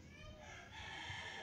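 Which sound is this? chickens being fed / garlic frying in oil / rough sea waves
chickens being fed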